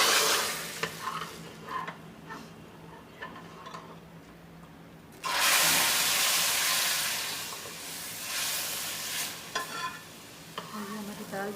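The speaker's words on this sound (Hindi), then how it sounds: "ये हमारा तड़का जो है तैयार हो चुका है" A tadka of garlic browning in hot oil for spicy masoor daal sizzles close by, a soft stirring hiss that bursts into a loud, steady fry midway and then settles back.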